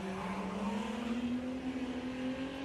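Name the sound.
V6 race car engine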